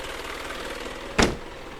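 The cold-started 4.3-liter four-cylinder diesel engine of a 1995 Isuzu Elf camper idles with a steady low rumble, broken by one short, sharp burst of noise partway through.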